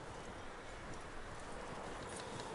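Horse hooves clip-clopping in Red Dead Redemption 2, a quiet, steady patter of hoofbeats on the ground, faint and continuous without speech.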